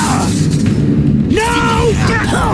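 In Hogwarts Legacy, a Confringo spell goes off as a heavy booming blast, followed by ringing, crackling magical effects and game sounds, with a voice speaking over it.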